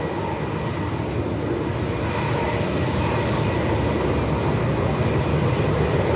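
A Qantas Airbus A220 jet takes off, its engines producing a loud, steady broadband roar that holds without a break and builds slightly toward the end, with no voices over it.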